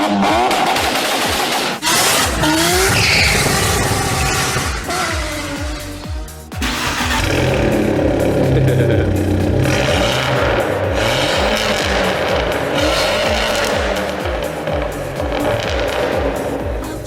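Track car with a custom exhaust fitted starts up and runs, a loud rough mechanical roar with a brief dip partway through before the engine settles into a sustained, busy idle and rev.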